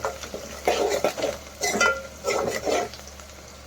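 Cabbage keema fry being stirred in a pan with a spoon, giving repeated scraping and clinking strokes over a faint sizzle, close and moderately loud.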